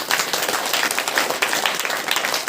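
A church congregation at a Saturday prayer meeting claps together in dense, continuous applause, loud and close, with no talk over it.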